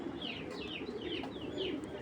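A young male grizzle racing pigeon, a heavy, strong-winged 2024 bird from a BRPFC club line, gives a run of repeated soft coos and calls close by over a steady low background hum.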